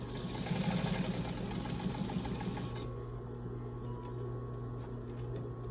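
A sewing machine top stitches along the edge of a fabric coaster, a steady rapid needle chatter that runs for a few seconds and then gives way to a quieter mechanical hum.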